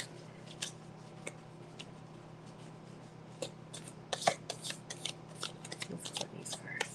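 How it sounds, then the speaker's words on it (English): Tarot cards are shuffled in quick crisp riffles, faint at first then louder and busier toward the end, with soft clicks in between. "Stack shuffles really well."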